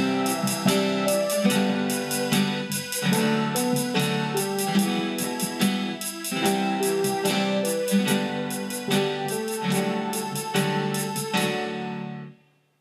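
Multitrack song played back from a Casio WK200 keyboard, steady layered synth parts and rhythmic accompaniment running continuously before fading out at the end.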